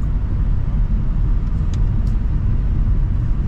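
A 2025 Mitsubishi Xpander Cross rolls over rough concrete pavement, heard from inside as a steady, loud low rumble of road and tire noise with a constant drone and no talking.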